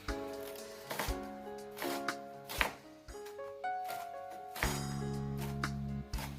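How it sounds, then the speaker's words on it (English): A knife chops spinach on a cutting board in quick, uneven bursts of crisp taps, close and clear, with a soft tonal background hum beneath. "cut our spinach"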